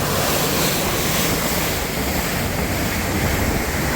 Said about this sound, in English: the noose is a little bit choppy now. We got some white caps out here